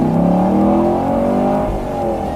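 A Chevrolet Camaro SS 1LE with its LT1 V8 is driven hard from inside the cabin, the engine note climbing in a strong rising howl through the revs, loud and continuous, with a brief dip near the end.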